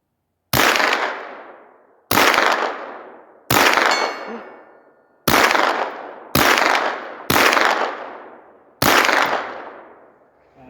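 Seven sharp rifle shots fired at a target in snowy conditions at about 65 to 75 yards, each loud crack followed by a ringing decay, spaced a second or two apart with no talking.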